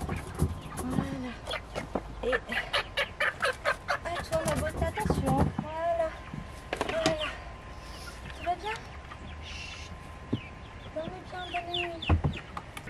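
Young hens kept in a greenhouse cluck repeatedly, with a rooster-like call among them, close by and mixed with intermittent human talk and handling noises.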